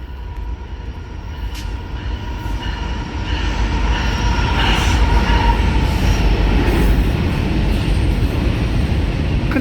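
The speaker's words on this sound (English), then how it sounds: "Here's a freight train westbound." A westbound freight train passes at a station, a loud steady rumble of rolling cars and wheels on rails that swells after a few seconds and keeps going, with faint squeals above it.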